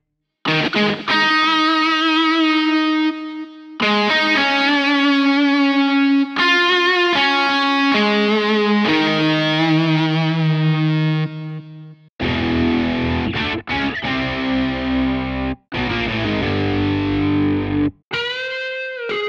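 Heavily distorted electric guitar from a virtual instrument through the Shreddage Amp XTC amp simulator, playing sustained chords and riffs, loud and close, with short pauses between phrases.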